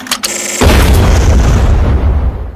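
An exploding collar blows up in the science-fiction film Battlefield Earth, as a sudden, very loud deep boom that follows a few short clicks and then rumbles on, slowly fading over the next two seconds.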